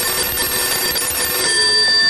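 A telephone rings with a steady, bright electronic trill that continues throughout, loud and close, with no talking over it.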